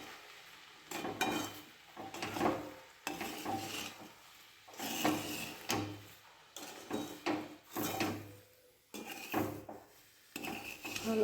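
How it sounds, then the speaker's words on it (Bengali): Semolina (suji) being stirred in a pan while making upma: repeated scraping, clinking strokes come in rhythmic bursts with short pauses between them, close and moderately loud. "ভালো করে আগে সুজিটাকে একটু মিশিয়ে দিই।"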